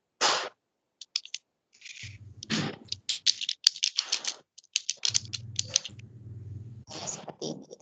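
Keystrokes on a computer keyboard come in irregular bursts of close clicks and taps, broken by short pauses, with some low mechanical thumps in between.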